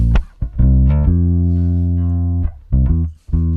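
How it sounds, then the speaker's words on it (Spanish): Loud, deep electric bass notes recorded direct, played cleanly with a dry, direct tone, sustaining long low pitches with short plucked attacks between them. "ese es el sonido de ese bajo grabado por línea directa"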